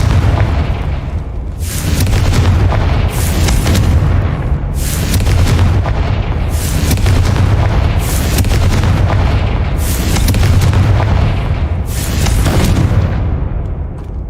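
Repeated Confringo blasting-spell explosions in the Hogwarts Legacy video game, five or six loud booming blasts roughly every two seconds over a heavy rumbling bed, with no speech.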